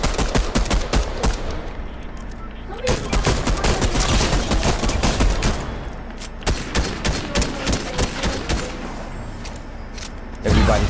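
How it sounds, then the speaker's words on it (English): Gunfire in Fortnite, a dense, loud stream of rapid automatic shots and sharp single cracks that runs almost without pause, with a few brief lulls. "We got gunfire close."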